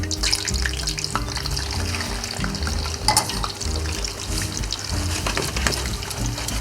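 Chopped garlic and potatoes fry in rendered meat fat with paprika-pepper seasoning, a steady close crackle and sizzle with stirring scrapes and occasional louder pops throughout.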